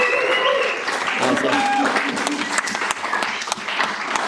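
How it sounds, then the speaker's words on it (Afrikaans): A live audience claps and cheers, with sharp handclaps spreading into a loud, lively applause mixed with whoops and voices nearby. "Hulle almal net hande klap en bietjie net cheer."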